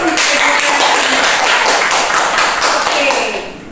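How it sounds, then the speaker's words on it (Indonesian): A classroom group claps for a student after a mathematics presentation on GeoGebra, giving a loud, busy burst of hand clapping with some tapping and faint voices mixed in that tapers off near the end. "Tepuk tangan dulu untuk"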